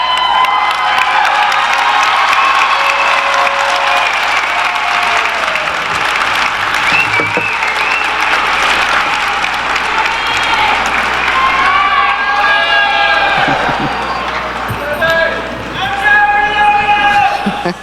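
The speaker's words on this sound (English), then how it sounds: "I'd like to ask you to stand and face the audience and give them a round of applause." Graduates at an Arizona College graduation ceremony stand and applaud the audience, a loud sustained wash of clapping with cheers, whoops and shouting voices throughout, tapering slightly near the end.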